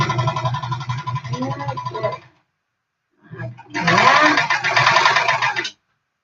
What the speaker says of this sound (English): And I want to do a little backup stitch on this. Just 2 or 3 stitches.